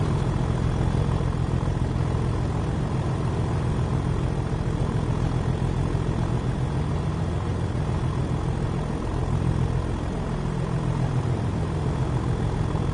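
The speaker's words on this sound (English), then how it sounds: "Can't beat the glorious sound of a tractor giving it the beans." A diesel locomotive in Train Sim World 5, a Cargoline intermodal freight run, works hard under power with a steady, loud, throbbing engine drone and low rumble that continues without a break and without talk.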